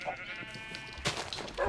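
A sheep bleats in the Minecraft video game, one wavering clear bleat followed by a shorter second cry, close and alone without talk.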